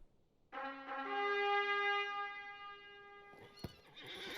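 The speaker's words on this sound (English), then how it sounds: "Let me get on my war steed." A war steed in the Lord of the Rings Online game lets out a long, loud whinny that fades into a snort, followed by a sharp clop and the rising rustle of movement.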